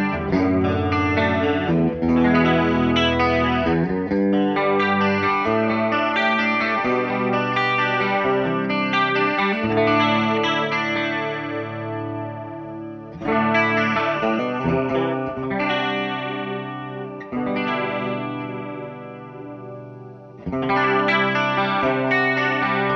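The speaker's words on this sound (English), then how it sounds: "It's that traditional, big, huge, wide chorus sound that, we always love to play." Guitar played through a Wampler Terraform pedal's Dimension Chorus mode gives a big, wide, shimmering chorus tone over chords and riffs, with short pauses between phrases and no talking.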